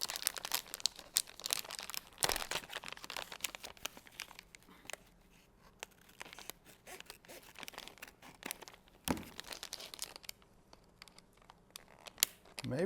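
Plastic display packaging crinkles and crackles in bursts as it is cut open with a knife and scissors, sharp snips and tearing sounds close by, a few louder rips scattered through.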